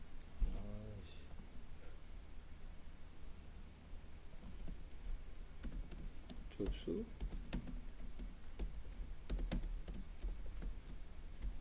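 Typing on a computer keyboard during a data modeling lecture: scattered bursts of soft key clicks over a quiet room tone, with someone speaking briefly near the start.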